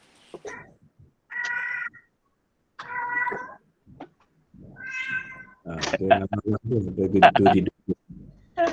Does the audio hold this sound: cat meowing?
yes